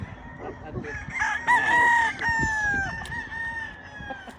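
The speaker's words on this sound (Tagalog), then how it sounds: "Ito yung stag para kay Harley Haynes sa Paris niya." A gamecock stag crows once in a clear, fairly close cock-a-doodle-doo lasting a couple of seconds, with faint background noise around it.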